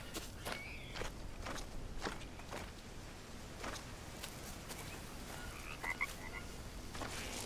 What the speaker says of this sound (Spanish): Estoy escuchando ranas.